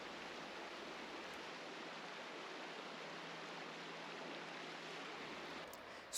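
A river flows around a log lying in midstream, giving a steady, close, broadband rush of moving water that holds even throughout, with no voices.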